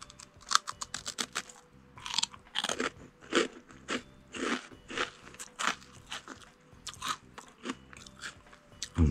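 Crisp, repeated crunching bites into a Japanese rice-cracker snack, close and fairly loud, with irregular crackly snaps and chewing over about nine seconds and no talking.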